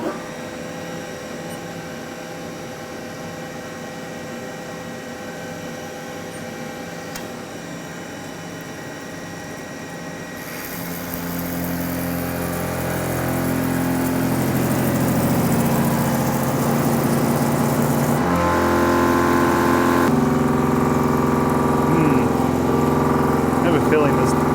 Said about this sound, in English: So that reduced shank extended length half-inch end mill was a little too dull to cut this hardened